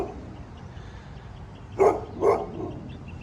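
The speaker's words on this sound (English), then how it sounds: "I apologize for the dog barking." A neighbor's dog barks twice in quick succession, fairly close by, across a quiet backyard where a ground-level composite deck has just been built, with the two sharp barks standing out against faint background hush.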